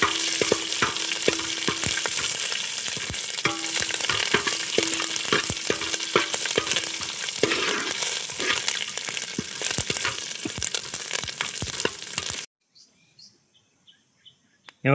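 Chicken gizzard fries with sesame seeds in a pan, a loud steady sizzle broken by repeated sharp scrapes and clacks of stirring, which stops abruptly near the end, leaving a few faint knocks.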